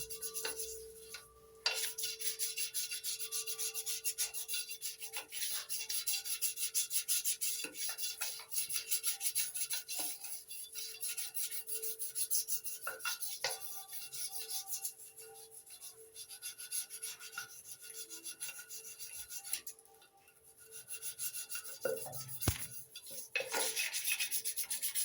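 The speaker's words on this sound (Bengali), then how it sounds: "তারপর আমরা এই ব্রাশটা দিয়েই একটু ঘষে নেব।" A brush scrubbing a surface while a home care product is demonstrated, a steady close rubbing that runs almost continuously with a brief pause near the end.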